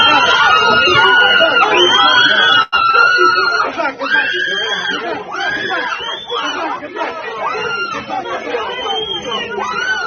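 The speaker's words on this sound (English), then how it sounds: "Watch the chaos that arose from a violent anti-ICE agitators in San Francisco." A chaotic crowd of anti-ICE protesters in San Francisco, many voices shouting, yelling and chattering at once, loud and close, with a brief sharp thump partway through.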